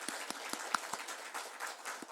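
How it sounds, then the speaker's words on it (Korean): A church congregation claps in a loose crowd, with sharp individual hand claps standing out over a softer spread of applause at moderate volume, and no talking over it. "확실하게 믿는 분은 성령님께 먼저 감사의 박수, 환영하는 박수."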